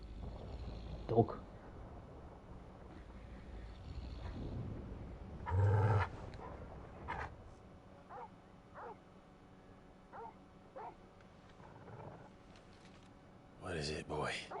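A dog in the video game Final Fantasy XV gives faint yips, whimpers and short barks scattered through quiet game ambience, with some character voices around it.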